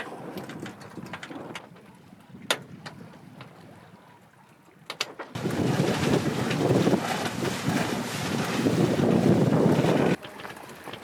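Sailboat under sail at sea in light wind, with steady broadband wind rush and water swishing against the hull; quieter at first with a few knocks, then a louder sustained gust of wind across the microphone.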